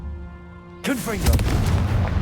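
Hogwarts Legacy's Confringo fire spell ends in a sudden booming explosion in the game, a loud blast followed by crackling rumble that trails off. A voice speaks just before it.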